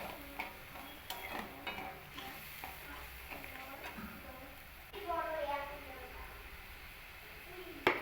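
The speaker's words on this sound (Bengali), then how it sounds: "এবার এই লবণ দিয়েই আমি এটাকে খুব ভালো করে মশলাটাকে আমি কষিয়ে নেব মশলা থেকে তেল ছাড়া পর্যন্ত" Spices and salt are stir-fried in oil for a vegetarian gathi kochu taro curry, a continuous sizzle broken by repeated scraping stirs, while a voice talks over the cooking.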